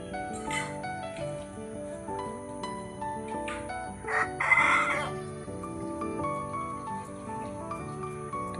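A male desi rooster crows once at moderate distance, a short strained call standing out against steady background hum and other birds.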